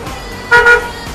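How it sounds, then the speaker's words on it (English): A car horn gives a brief double honk, loud and close, over a quiet background. "I hear your fucking horn! Stop fucking honking!"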